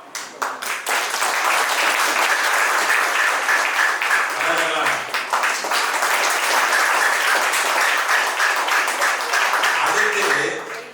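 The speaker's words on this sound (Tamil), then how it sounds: "இந்த பலமான கைத்தட்டல் யாருக்குன்னா, இந்த உயர்ந்த ஆன்மா சைமன் ரீன் பிரெய்லி." Sustained audience applause at a motivational speech event, dense, steady clapping that fills nearly the whole stretch, with brief dips near the middle and end.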